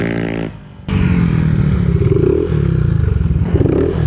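Modified-CVT scooters, a Yamaha Aerox 155 and a Honda Click, race flat out. Their loud, continuous engine drone and whine is close by, with a brief dip early on before the roar returns and holds steady.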